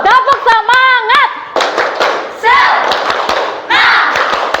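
A group does the rhythmic 'tepuk semangat' clap chant during an ice-breaking session at a teacher performance test, loud close claps in a patterned beat alternating with voices chanting together between the claps.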